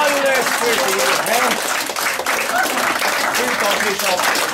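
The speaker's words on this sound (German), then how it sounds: "Und jetzt schau schon mal, wie sie klatschen." A crowd claps at a Samichlaus (Saint Nicholas) gathering, loud continuous applause mixed with voices and children's chatter close by.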